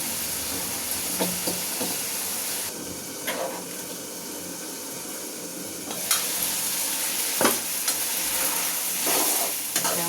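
Pigeon meat frying with tomato sauce in a pan gives a steady close sizzle and hiss, with occasional stirring scrapes and sharp crackles standing out above it.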